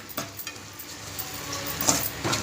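Fresh coriander seeds and coconut frying in a pan for boti curry, a bright sizzle with spoon scrapes and stirring knocks scattered through it.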